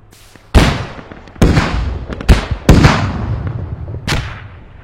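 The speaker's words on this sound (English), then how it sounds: "Hear the thump of the round going entering the tube and leaving it" Mortar rounds fired from a tube in a combat game battle near a forward operating base, a series of five heavy, booming thumps spaced unevenly, each loud and close with a short decaying tail, no talk over them.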